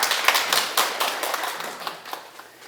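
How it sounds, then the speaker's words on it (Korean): A small audience claps at a parenting talk, with distinct hand claps in an uneven rhythm that gradually thin out and fade. "큰 박수 부탁드립니다"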